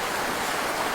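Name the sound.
flowing water of a stream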